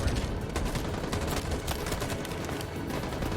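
Dense, continuous volleys of gunfire in Detroit: Become Human, overlapping shots forming a loud steady barrage with no pauses.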